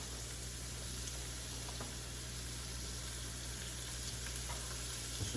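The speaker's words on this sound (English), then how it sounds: "This is my ground beef. I'm just going to add it to my pan." Ground beef frying in a pan over a medium flame, giving a steady, even sizzle with faint crackles throughout and no talking.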